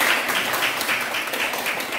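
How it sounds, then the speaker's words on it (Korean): Broadband applause from an audience at a Tongyeong citizens' lecture for poet Lee Jung-do, steady and fairly loud across the whole stretch, with no talk over it. "이렇게 큰 박수 한번 부탁드립니다"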